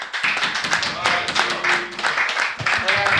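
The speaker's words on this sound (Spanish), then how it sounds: "Un aplauso para Daniel Gumbau." Dense applause from a studio audience on a Spanish-language variety show, steady clapping filling the whole stretch with scattered voices underneath.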